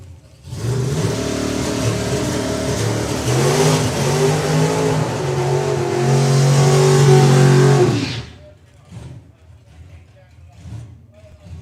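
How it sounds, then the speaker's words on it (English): Camaro drag car rolling into the lane at a drag racing event, its engine droning and revving steadily for about eight seconds before cutting off abruptly, followed by faint background noise. "Jamie Faulkner now gets the opportunity to bring his Camaro underneath the tower, rolling to the Kestrel lane."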